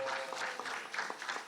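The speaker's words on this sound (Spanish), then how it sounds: "Un mucho aplauso para el parlamentario andino Javier Fernando Arce Alvarado," An audience at a political communication congress applauds with quiet, scattered clapping in a conference hall, fairly faint and brief.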